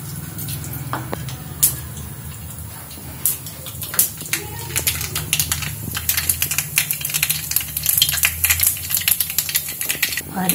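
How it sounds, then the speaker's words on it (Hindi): Mustard seeds crackle and pop in hot oil in a pan, a rapid scatter of sharp close snaps over a steady sizzle, growing busier toward the end. "मैंने इसमें पहले राई डाली"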